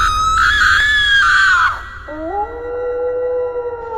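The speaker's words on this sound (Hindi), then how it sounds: "तभी जंगल में भेड़िए के चिल्लाने की आवाज आने लगती है।" A wolf howls in a jungle as a sound effect, loud and drawn out, in long wavering wails that break off and then resume on a lower rising note.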